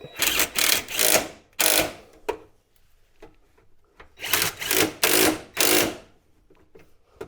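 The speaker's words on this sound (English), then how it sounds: "we can tighten up the bottom bolts here anyway" Engine mount bolts are tightened on a Volkswagen Beetle engine with a ratchet, several fast whirring bursts separated by pauses, with small clicks and knocks in between.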